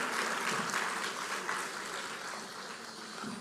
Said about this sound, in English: a round of applause for our keynote speaker for the last time